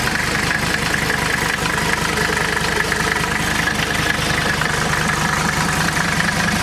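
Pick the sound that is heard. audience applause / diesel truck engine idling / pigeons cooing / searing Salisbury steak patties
diesel truck engine idling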